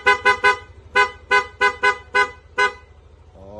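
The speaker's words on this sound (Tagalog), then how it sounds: "PIA auto style horn, dual horn setup, horn selector switch." PIA auto-style dual horn fitted to a Yamaha NMAX V2 scooter gives about ten sharp, loud, close beeps in an uneven rhythm, over a low engine idle.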